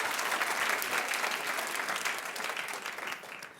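Studio audience at a daytime talk show clapping steadily, a dense sustained wash of applause throughout that fades slightly toward the end.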